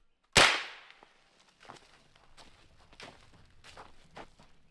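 A single supersonic .45 pistol shot, one sharp loud crack with a quick decaying tail, followed by faint scattered shuffling and handling sounds.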